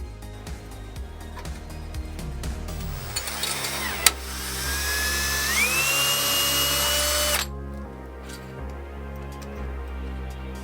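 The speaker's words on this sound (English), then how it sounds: "we're going to tap that hole" Screw thread being tapped into a hole in a PC case: a steady whirring power-driven burst with a rising whine, running about four seconds in the middle amid light clicks and handling noise.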